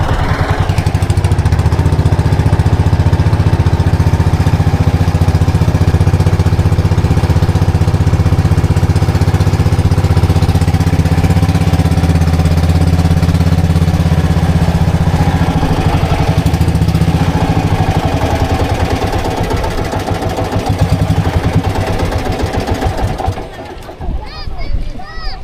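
Loud, steady droning of a boat engine running close by on a boat loaded with stones, a constant low rumble that eases and drops off near the end.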